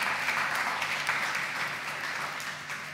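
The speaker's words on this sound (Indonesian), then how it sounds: "Mari berikan tepukan." Congregation applauding at a Sunday church worship service, a steady dense patter of many hands clapping at moderate volume throughout, with no talk over it.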